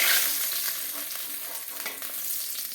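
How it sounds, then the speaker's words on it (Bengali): Ganges bele fish fry in hot oil with a steady, close sizzle and crackle, broken now and then by the soft clicks and scrapes of the pieces being turned and lifted out. "আমার মাছগুলো সব ভাজা হয়ে গেছে। দেখুন, আমি এক এক করে তুলে নিচ্ছি, লাল লাল করে ভেজে নিচ্ছি।"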